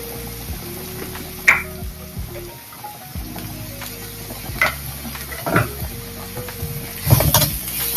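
Shredded cabbage with chili powder sizzles and crackles in a hot pan while being stirred, steady frying hiss punctuated by scraping spatula strokes and a few sharp clinks, close and moderately loud.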